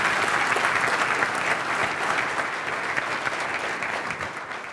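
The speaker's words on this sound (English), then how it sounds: "Let's give a big round of applause for Keith Ferrazzi." An audience in a hall gives a big round of applause, dense and steady clapping from many hands close by that slowly eases off toward the end, with no voices over it.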